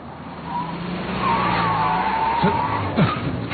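A car brakes suddenly and skids, engine rising then tires screeching in a sharp sweeping squeal near the end, moderately loud, with no voices.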